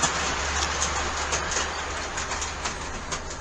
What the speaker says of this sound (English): So let's just run the train a little bit and have some fun